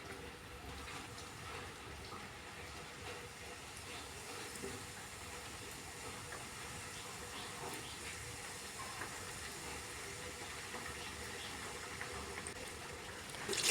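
Sweet khaja dough fries in hot oil over a low flame, giving a faint, even hiss and soft bubbling that holds steady throughout without pause.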